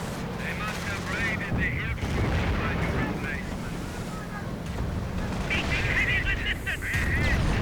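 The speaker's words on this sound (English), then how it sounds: "More rockets around here." Booming rocket artillery barrages in the Company of Heroes strategy game, dense rumbling blasts layered under continuous excited commentary from a caster.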